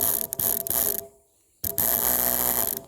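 A battery-powered spray rig pump mounted on an ATV rack, running with a loud, steady mechanical whir and rattle, cutting out for about half a second before starting again.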